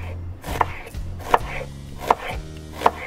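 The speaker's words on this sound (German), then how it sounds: "Jetzt nehme ich auch die halbe Zwiebel noch, muss man das auch hacken." Half an onion is chopped with a knife on a cutting board, four evenly spaced, crisp knocks about three-quarters of a second apart, close and distinct against a low background hum.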